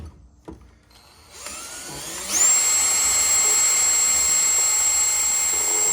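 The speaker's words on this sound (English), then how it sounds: "we'll use this drill here, and we'll turn it, and it'll fill up the fuel jug" A drill spins a racing car's fuel pump to drain the fuel cell into a jug, a steady high-pitched whirring that ramps up after a few quiet seconds and runs on evenly.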